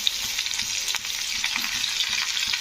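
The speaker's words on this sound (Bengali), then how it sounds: "তো বেগুনগুলোও কিন্তু হালকা একটু ভেজে নিতে হবে" Eggplant pieces and potatoes sizzle in a pan of hot oil, a steady close hiss with faint crackles and soft stirring taps throughout, with no voices.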